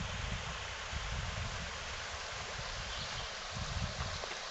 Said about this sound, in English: looking at that nice cold mountain water running down through,